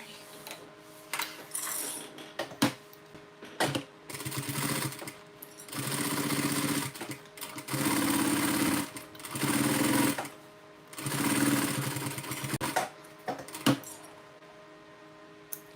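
A sewing machine stitches in several runs of rapid, rattling mechanical whirring, with short pauses between them, close and fairly loud, until the bobbin thread runs out.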